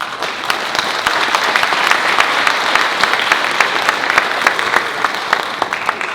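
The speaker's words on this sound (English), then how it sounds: "Give them a round of applause." An audience at a school district State of the Schools address claps for teachers and staff, a full, sustained round of applause with a few sharper claps standing out across the six seconds.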